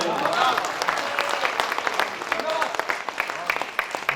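Audience applause at a Hindi poetry gathering in Kotma, a dense patter of many hands clapping at moderate loudness, with a voice speaking over it.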